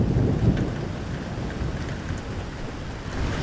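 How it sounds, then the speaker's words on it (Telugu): Heavy rain pours steadily with a low rumble of thunder underneath during a stormy scene in an animated story, dense and continuous throughout. "ఇక్కడ వర్షం చాలా ఎక్కువగా ఉంది."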